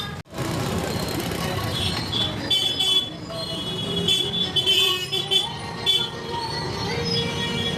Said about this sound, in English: Even for walking, traffic is there.